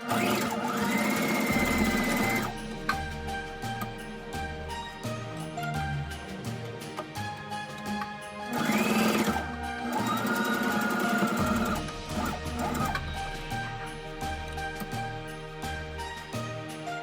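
A sewing machine stitching patchwork star pieces for a Christmas star, steady rapid mechanical whirring in several runs with short pauses and handling clicks between, close and clear.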